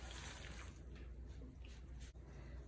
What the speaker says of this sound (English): I'm just going to add some hot water to it.